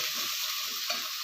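Onion and tomato sauté in a pan, a steady close sizzle with soft scraping stirs, no voices.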